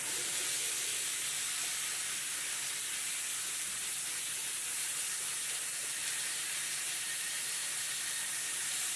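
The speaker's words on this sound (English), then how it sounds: "I guess you can just enjoy listening to them sizzle" Pork steaks sizzle on a hot Ozark Trail griddle, a steady, bright hiss continuing evenly, with no talking.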